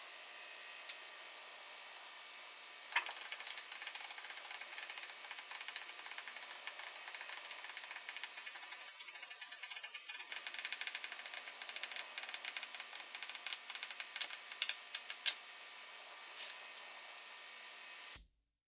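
Pages of a flip book riffle continuously for nearly twenty seconds, a dense, hissing flutter of paper with a brief dip in the middle before the flipping resumes and stops abruptly.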